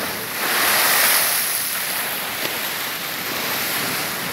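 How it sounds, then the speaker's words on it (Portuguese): High-tide waves at Praia do Maraú beach in Mosqueiro flood the seafront street, a continuous rushing wash of surf swelling and easing, mixed with wind on the microphone and no talk. "Olha, seu Paulo, o que a maré tá fazendo com a rua."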